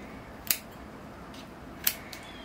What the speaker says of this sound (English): So I'll just come with my curved scissors and kind of follow the profile of the pot